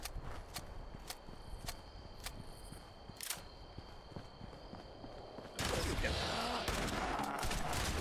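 Rapid gunfire from a post-apocalyptic wasteland shooter video game, a run of sharp evenly spaced shots followed by a louder, denser burst of noisy action near the end.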